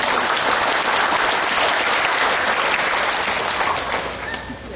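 Audience at a summer cattle show in Ontario giving a loud, sustained round of applause, dense clapping from a large crowd that tapers off toward the end.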